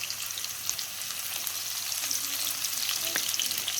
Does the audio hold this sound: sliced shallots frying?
yes